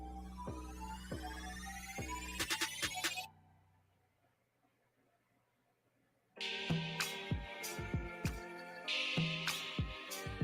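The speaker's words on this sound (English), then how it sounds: "You hear my phone go off?" A phone ringtone goes off in a string of bright, repeated electronic tones, stops for a few seconds of near silence, then starts up again just as loud.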